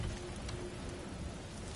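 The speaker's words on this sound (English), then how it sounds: "Over a storm like this?" Heavy storm rain in God of War Ragnarok, a dense, steady hiss of downpour with faint patters and no pauses.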